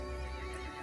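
A horse in the video game Resident Evil Village lets out a short, loud neigh mixed with hoof clatter, a brief burst set against dense game sound.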